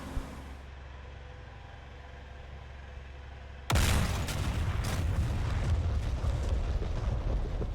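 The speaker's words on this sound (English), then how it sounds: "You hear that instantly when the missile hit." In a combat flight video game, a missile strikes its targets: a steady engine drone gives way to a sudden, loud explosive boom, followed by a rumbling, crackling aftermath that lingers at full strength.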